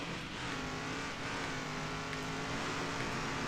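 A Super Truck Cup racing truck in Circuit Superstars brakes and feathers the throttle, the engine note wavering up and down in a continuous, moderately loud drone with light tyre noise, no talk.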